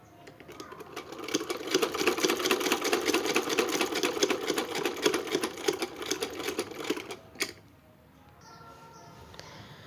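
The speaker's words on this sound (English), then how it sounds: "Now we will give it a stitch." Sewing machine stitching a cloth face mask, running in a fast, even mechanical chatter for about seven seconds before stopping with a small click, followed by quiet.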